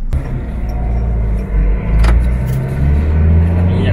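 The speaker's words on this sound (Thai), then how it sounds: "ผมจะถอยหลังแล้วนะครับเหยียบคลัชผมก็ปล่อยเบรคแล้วถอนคลัช" Toyota Revo 2.8 Smart Cab manual pickup reversing as the clutch is released, a low steady engine rumble close by with a faint clunk midway and the engine note rising slightly near the end.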